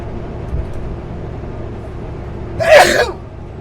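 A single sharp sneeze inside a moving car crossing the Kootenay mountain pass. It bursts out loudly near the end over a steady low road rumble.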